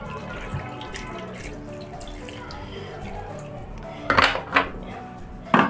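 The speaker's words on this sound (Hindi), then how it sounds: "डाल के इसमें पानी डाल देती हूँ।" Water is poured into a cooking pot holding tomatoes in a home kitchen, a soft running splash under faint room noise, followed near the end by a few sharp clinks of metal utensils against the pot.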